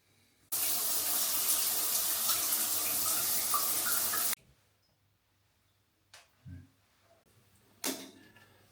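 A hotel room shower runs in a steady, loud hiss for about four seconds, then shuts off, followed by a few faint clicks and knocks in a quiet room.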